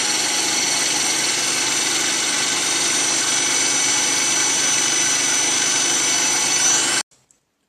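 A handheld power drill runs at steady high speed, a loud, constant whining motor hum with a bright tonal edge, holding evenly for about seven seconds before stopping abruptly, followed by a couple of faint clicks.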